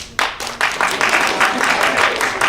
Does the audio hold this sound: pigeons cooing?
no